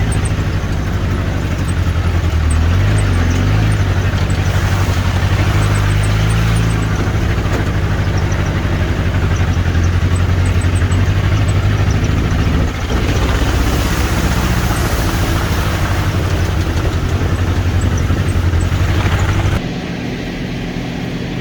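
Two Toyota off-road trucks crawl along a forest wheeling trail, engines idling and rumbling at low speed with a steady mid-low drone, close and continuous, dropping away abruptly near the end.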